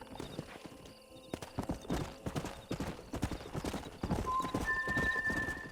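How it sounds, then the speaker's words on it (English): Horse hooves clip-clop steadily at close range in the Red Dead Redemption video game, followed by a loud whinny from the horse near the end. "We got some fine horses."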